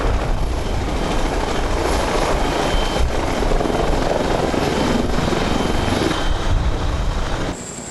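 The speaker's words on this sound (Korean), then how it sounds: "해병대의 지상 작전을 지원할 상륙 공격 헬기" A Korean Marine Corps amphibious attack helicopter roars close and loud, its rotor and engine noise a heavy, continuous wash that drops off slightly in the final moments.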